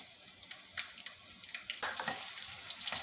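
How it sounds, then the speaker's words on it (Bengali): Garlic and black cumin seeds frying in hot oil, a bright continuous sizzle with crackling pops, close and fairly quiet, with no voices. "তেল গরম করে রসুন, কালো জিরা দিলাম"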